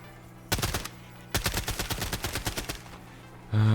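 Rapid automatic gunfire in a shooter video game, two loud bursts of evenly spaced shots separated by a short pause, close and without talk, ending with a low hum.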